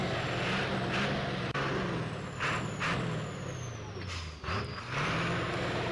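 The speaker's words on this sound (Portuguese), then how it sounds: "vou deixar um somzinho aqui do caminhão um pouquinho aqui pra vocês" A heavy truck engine in the mobile game Heavy Tires rumbles with a deep, steady drone, punctuated by hissing air brake bursts and a few higher tones.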